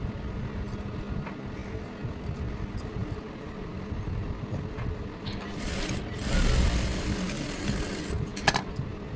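A sewing machine stitches the shoulder seam of a blouse with a low, steady mechanical whir, close by, rising briefly louder near the end, with no talking over it.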